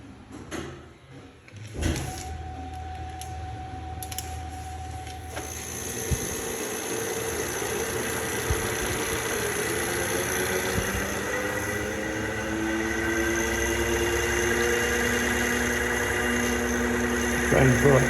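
A balancing machine spins up an engine impeller, starting with a clunk and building into a steady mechanical hum with a rising whine over several seconds. Faint speech-like sound sits under the machine.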